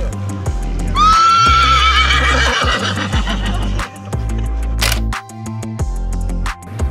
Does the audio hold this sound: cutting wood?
no